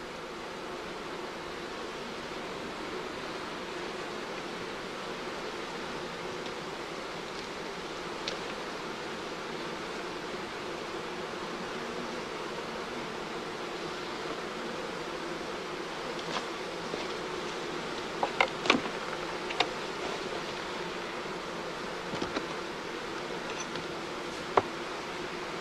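Honeybees in apiary colonies give off a steady, low, continuous buzz with a few faint clicks and ticks near the end.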